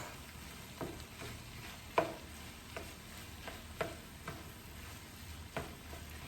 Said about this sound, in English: make sure it gets mixed in really well so that that egg can cook